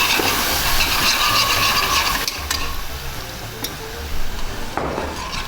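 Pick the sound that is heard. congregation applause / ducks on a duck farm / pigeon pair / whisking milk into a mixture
whisking milk into a mixture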